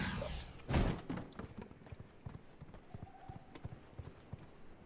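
Horse hooves clip-clopping in a vampire-themed video game, a steady run of soft rhythmic thuds after a louder opening thump, moderately near and fairly faint.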